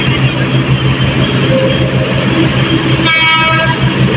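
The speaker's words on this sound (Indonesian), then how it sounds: "kereta api Taksaka masuk dan berhenti di jalur 2 stasiun Gambir" A Taksaka passenger train pulling into platform 2 at Gambir station, Jakarta, with a steady loud rumble of railcars rolling past and a brighter squeal or horn-like tone near the end.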